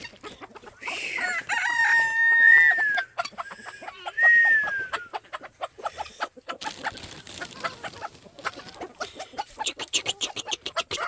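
Backyard chickens clucking and a rooster crowing close by: a long drawn crow early on, then another, followed by a steady run of quick clucks and chatter throughout.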